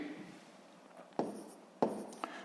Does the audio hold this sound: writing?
yes